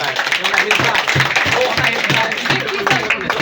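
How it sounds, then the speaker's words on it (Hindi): A roomful of students at a toppers' talk claps in a loose, uneven burst of applause. The individual claps are distinct and close, with some voices mixed in throughout. "चलो इसके लिए भी एक बार जोरदार ताली"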